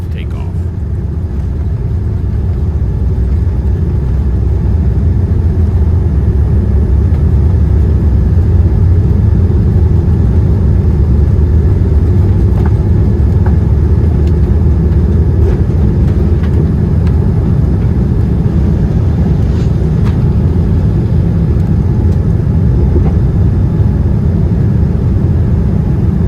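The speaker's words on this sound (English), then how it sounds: "we headed out to the reef runway for a surprisingly quiet and smooth takeoff." American Airlines Boeing 787-9 Dreamliner taking off from Honolulu, heard from inside the main cabin as a steady, loud low engine roar that builds and holds with little change throughout.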